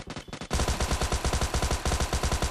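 Tommy Gun automatic fire in the mobile game PUBG Mobile Lite, a few short bursts followed by a long, loud, rapid stream of shots.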